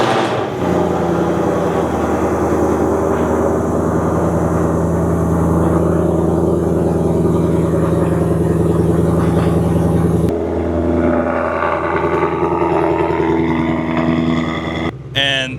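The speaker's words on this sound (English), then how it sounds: "the valve exhaust is in normal mode, that idle is not bad at all." A supercharged Ford Mustang Dark Horse engine idles with a deep, steady rumble, close and loud, valved exhaust in normal mode, with talking mixed in over the throbbing exhaust.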